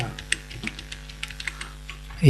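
Someone types on a computer keyboard while setting up a Windows machine: a short run of light, irregular key clicks, close and clear, with a quiet background hum.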